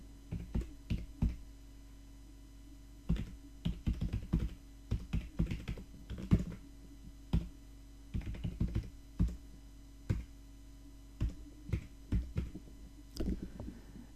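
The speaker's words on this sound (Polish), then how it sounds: "wpisuję nazwę tego projektu" A project name is typed on a computer keyboard in bursts of sharp, close key clicks with short pauses between words, over a faint steady hum, with no voices.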